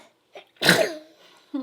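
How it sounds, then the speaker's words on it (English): A baby gives one sharp sneeze up close, preceded by a tiny intake of breath and followed by a fading breathy tail, in an otherwise quiet room. "Little baby sneezes are the best."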